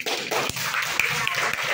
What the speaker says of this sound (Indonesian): kasih tepuk tangan untuk kelompok listrik